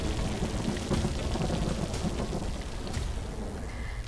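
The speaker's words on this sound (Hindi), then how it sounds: "नरसिंहपुर में बेहिसाब बरसात ने मुसीबत बढ़ा दी है।" Heavy monsoon rain pours down steadily in Narsinghpur, a dense, constant hiss of falling water with faint crackles and a brief thin tone near the end, fairly quiet and distant.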